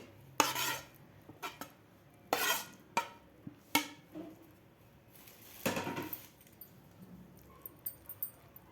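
Spoon stirring grated cucumber into whisked yogurt for cucumber raita, a handful of scattered clinks and scrapes against the bowl, close and fairly quiet with pauses between them.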